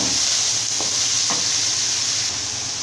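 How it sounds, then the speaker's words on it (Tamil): Onions, tomatoes and curry leaves sauté in a pan for an onion kurma, producing a loud, even sizzling hiss with a couple of faint stirring scrapes. "இப்போ இதை எல்லாமே சேர்த்துட்டு நல்லா இந்த மாதிரி வதக்கிக்கலாம்"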